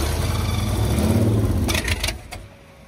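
An old carbureted engine runs roughly, turning over and sputtering with a low uneven rumble and a few revs before it fades out.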